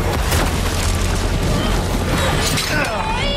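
Bomb blast in Resident Evil 4 Remake, a loud booming rumble with shattering debris that fills the whole clip, with a voice partly audible beneath it.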